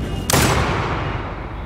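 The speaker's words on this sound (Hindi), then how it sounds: "ये बंदूक वाले का तो काम है गोली चलाना, तो ये चलाएंगे।" Gunfire from a film trailer about a Punjabi singer, hitting as one sudden loud broadband blast that fades into a long rumbling decay.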